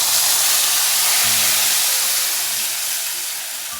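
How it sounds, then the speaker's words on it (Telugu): Tomato paste frying in oil and butter in a pan for a paneer butter masala, giving off a loud, dense steamy hiss that fades slightly toward the end. "ఈ పేస్ట్ బాగా ఫ్రై అవ్వాలండి."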